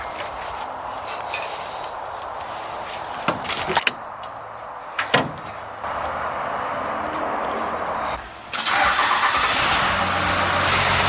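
A 12-valve Cummins diesel in a Newport convertible, long sitting, cranks on a jump starter with a few clicks and thumps, then catches and settles into a steady, close, loud running rumble with no talk.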